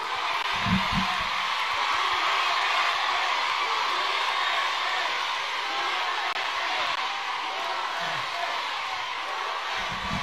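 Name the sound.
OFW crowd in Hong Kong cheering and shouting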